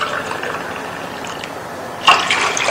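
Water pours steadily into a measuring cup for syrup, a continuous close splashing fill, with a louder, brighter surge toward the end.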